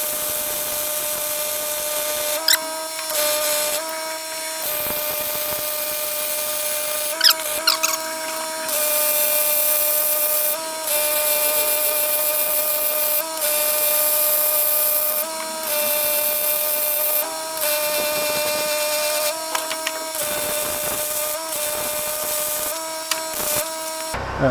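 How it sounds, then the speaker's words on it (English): Brackets are welded onto a dump trailer spare tire mount, the welder crackling and buzzing close by in bursts of several seconds with short pauses between beads. "I'm gonna start welding it out."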